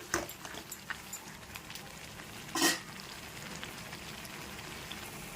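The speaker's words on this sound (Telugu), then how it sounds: "చింతపండు బాగా ఉడుకుతుంది" Tamarind paste simmers and fries in oil in a pan for traditional festival prasadam, giving a steady low crackling sizzle with scattered pops and one brief louder burst partway through, no voices.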